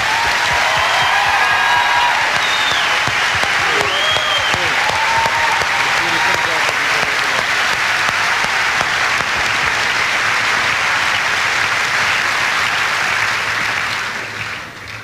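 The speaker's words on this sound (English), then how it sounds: "we ask that you hold your applause until all graduates are recognized" A commencement crowd at a senior high school graduation breaks into loud, sustained applause with cheering whistles and shouts, continuing strongly for fifteen seconds before beginning to fade.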